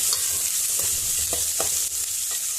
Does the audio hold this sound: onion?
yes